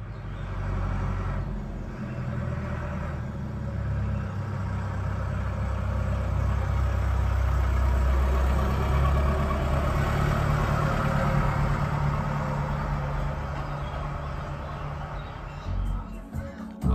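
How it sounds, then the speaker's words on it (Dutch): A tractor drives past, its low engine rumble building steadily to a loud, close peak around the middle and then fading away, captured in an Auro 3D immersive demo recording. "In deze video horen we een tractor voorbij rijden."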